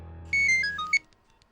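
An incoming call's ringtone sounds from a phone: a short run of bright, descending electronic notes, loud and close, ending abruptly, alone without talk.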